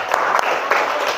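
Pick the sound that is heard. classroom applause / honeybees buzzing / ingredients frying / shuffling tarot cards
classroom applause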